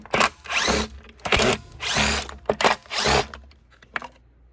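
A power drill backs Phillips screws out of the elbow on a Riccar Supralite vacuum, whirring loudly in five or six short bursts with brief pauses between them. It ends in quiet.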